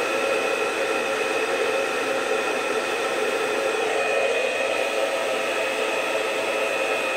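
A hair dryer blows steadily on a beard with a continuous airy whoosh and a faint motor whine, unbroken and close throughout.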